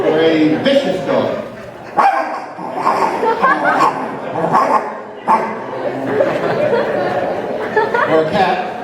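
Someone growls and barks in rough bursts imitating a fierce dog, a string of loud snarling yaps close up.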